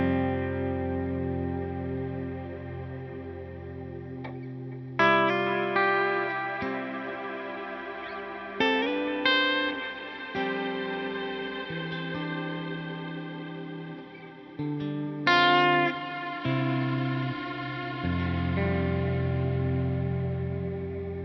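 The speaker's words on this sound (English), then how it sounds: "kind of an early sort of cloud reverb" Sustained guitar chords through a Line 6 Helix cloud reverb effect, a lush, washy reverb that swells and smears each strum into a shimmering, ambient cloud, with no talking.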